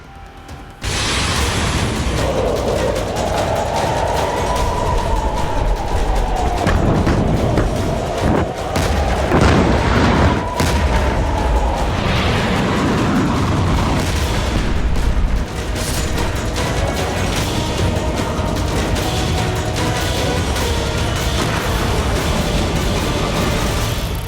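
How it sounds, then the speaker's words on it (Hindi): A deep, sustained roar of explosions and rumbling blasts from a Hezbollah attack on Israel fills the clip, loud and continuous, with crackling bursts layered over a heavy low boom. "इस रिपोर्ट में एक बड़ा धमाका होगा, जरा महसूस कीजिए"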